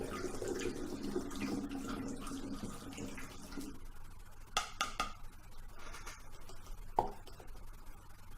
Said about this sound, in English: And then a cup and a half of water.